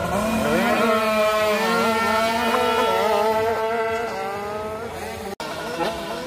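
Small dirt bike engines, including a 90cc BRK, rev loudly and close by for a wheelie race start, their pitch rising and falling in a sustained high whine before a brief cut and a renewed roar.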